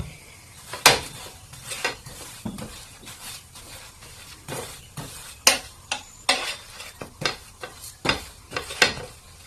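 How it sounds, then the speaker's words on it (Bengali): A roti flipped in a pan with a little oil sizzles under a string of loud, irregular clanks and scrapes of a utensil against the pan, close up and without speech. "উপর সাইডটাও পাল্টে দিচ্ছি, পাল্টে দিয়ে এটাতেই একটু তেল দিয়ে দিচ্ছি"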